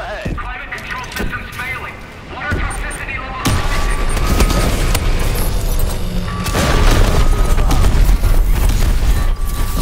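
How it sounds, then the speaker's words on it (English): Heavy explosions from a bombing run rumble and crash in the Call of Duty: Advanced Warfare multiplayer game, with deep booms and gunfire layered under an in-game voice announcing events. "Enemy bombing run overhead."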